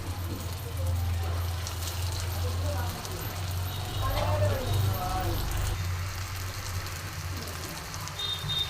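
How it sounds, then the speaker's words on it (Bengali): Fritters (bora) frying in hot oil in a wok, giving a steady crackling sizzle with a low hum beneath it throughout. "বড়াগুলো আমি ভেজে নেব।"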